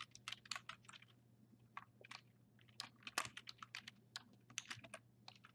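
Rapid typing on a computer keyboard to enter an email or username, dense irregular clicks of individual keys close up over a low steady hum, with no voices.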